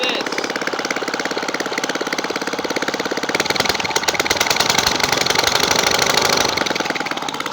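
A lawnmower engine runs steadily and close, a rapid rattling chug that swells somewhat louder partway through, with no talk over it.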